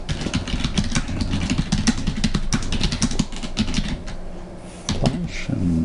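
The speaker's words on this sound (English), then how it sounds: "if you want to add text, you come here, type in your text." Keys clatter in quick irregular bursts as text is typed on a computer keyboard, close and fairly loud, with a brief lull before typing resumes.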